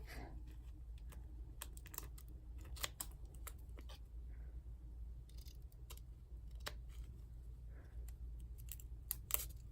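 Paper being trimmed with scissors while making a scrapbook layout with sequin pockets: repeated short, crisp snips and cuts spread across the clip over a steady low hum, with no talking.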